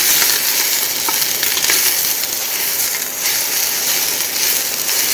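Chopped brown onions fry in a Dutch oven on an induction cooktop, giving a steady, loud broadband sizzle with faint scrapes of stirring throughout, no voices.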